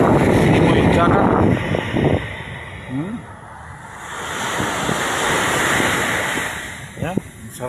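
Ocean waves wash along the shore at San Marcelino, Zambales, a broad surf roar swelling and easing, with wind buffeting the microphone and brief voices.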